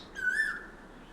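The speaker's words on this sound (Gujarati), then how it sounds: "કોયલ બોલે છે" An Asian koel gives a single clear whistled call, a rising then level note lasting about half a second, fairly near over a quiet background.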